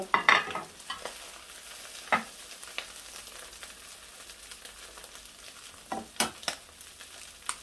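A fried mussel omelette is scooped from a sizzling pan onto a plate, with a low frying hiss under scattered scrapes and clinks of the utensil against the pan.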